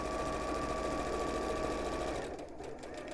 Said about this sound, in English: you have to stitch it to make the casing that the actual ribbon or cord is going to go through. So you do need to reverse stitch on that one.